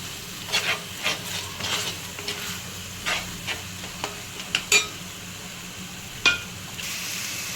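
Fresh ginger garlic paste fries in a pan for a fish curry, with a soft continuous sizzle broken by repeated sharp spoon scrapes and clinks as it is stirred.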